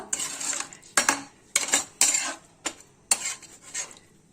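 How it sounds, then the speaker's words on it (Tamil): A metal spoon mashing and stirring egg biryani rice in a pot, sharp clanking scrapes against the vessel in an uneven rhythm of about eight strokes, close and clear with no talking. "இப்போ நம்ம இதை நல்லா மேஷ் பண்ணிக்குவோம் இதை நல்லா நல்லா நல்லா திருப்பி விட்டுக்குவோம்"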